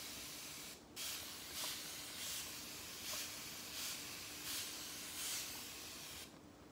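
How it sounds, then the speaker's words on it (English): A spray bottle hisses out a series of short, evenly spaced bursts of water mist, close and alone against quiet background hiss. "my handy dandy spray bottle of water."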